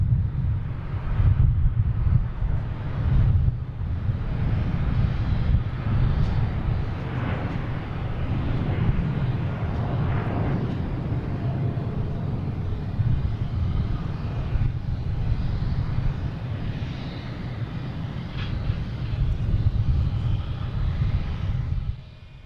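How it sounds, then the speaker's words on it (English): A Delta Airbus A330-900 airliner takes off at Boston Logan International Airport, its jet engines producing a sustained, broad roar from a moderate distance, with wind buffeting the microphone and no talking. "we got Delta taking off to Paris"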